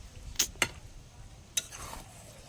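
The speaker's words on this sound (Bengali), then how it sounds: "এটা ভালো করে কষতে হবে" Chicken and potatoes are sautéed in a pan at home, with a utensil scraping through them in three short, distinct strokes over a faint steady sizzle.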